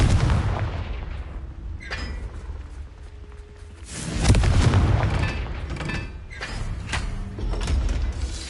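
Confringo fire spell blasts in the Hogwarts Legacy video game, several heavy booming explosions with rumbling tails and sharp cracks spread across the span, loud and close.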